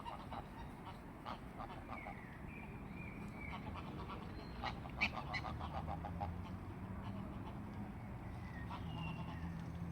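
Geese honk and call repeatedly outdoors, a busy mix of short nasal honks and squawks at moderate distance over a steady background wash, with the calls clustering and overlapping in bursts.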